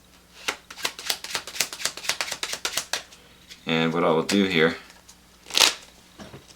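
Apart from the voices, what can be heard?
shuffling a deck of playing cards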